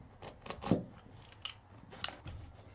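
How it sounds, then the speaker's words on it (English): A sharp blade slices through fitted carpet in a room corner, giving a few scattered, soft rasping cuts and scrapes, close and fairly quiet, with no talking. "There are two ways to cut. I prefer this sideway cut. Make sure you've got a nice sharp blade."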